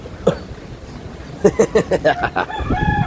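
Several quick clucks from a chicken in a short rhythmic burst, close by, followed by a brief drawn-out call at the end.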